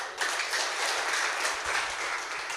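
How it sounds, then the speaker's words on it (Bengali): Applause from an audience at a corporate training event, a dense steady wash of many hands clapping for an introduced guest, close and fairly loud with no speech over it. "হাততালি হয়েছে।"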